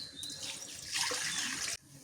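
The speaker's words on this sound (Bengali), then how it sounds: "পানি দিয়ে দিই।" Water poured from a vessel into a cooking pot of vegetables set to boil, a short splashing gush close by that builds and then stops abruptly.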